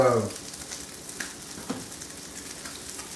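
Crab cakes frying in vegetable oil coating a frying pan, a soft continuous sizzle with occasional small pops, fairly quiet and steady throughout.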